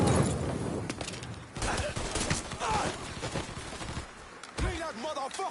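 Gunfire in the first-person shooter Black, a dense stream of overlapping shots and bursts running throughout, close and loud, mixed with busy game noise and a voice talking over it.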